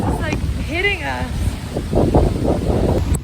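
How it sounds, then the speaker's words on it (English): Strong wind buffets the microphone with a steady roar on a rainy outing near Coñaripe, Chile, while people talk over it. "And it's super windy."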